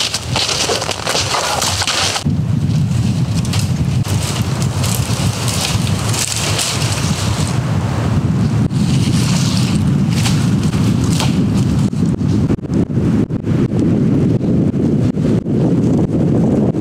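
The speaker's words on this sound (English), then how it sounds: "The wind is so inconsistent right now. One moment it's calm, the next minute it's like 20 miles an hour" Strong gusting wind roars across the microphone at a below-freezing tepee campsite in winter, loud and continuous with brief swells and buffeting, and no voices.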